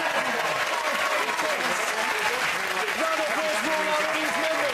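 A studio audience on a comedy panel show breaking into sustained applause, dense steady clapping from a full room, with voices talking over it.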